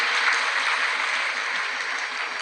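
Loud, steady applause from a large audience at a Shiv Mahapuran katha gathering in Madhya Pradesh, a dense even wash of clapping held throughout.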